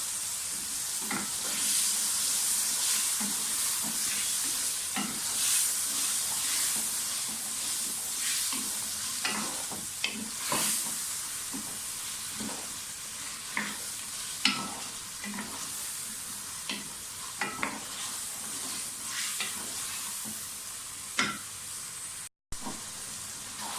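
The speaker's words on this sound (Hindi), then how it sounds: "आलू की भुनाई हम कर लेंगे" Potato pieces fry in oil in a pan for aloo methi sabzi, giving a constant close sizzle broken by regular scrapes and clinks from a spatula turning them, with no one speaking.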